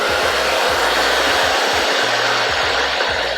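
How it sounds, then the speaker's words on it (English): A hairdryer runs steadily throughout with a loud, continuous broadband airy roar, while a low buzzing hum pulses on and off underneath, close and with no speech. "let's see what happens when we turn on the hairdryer."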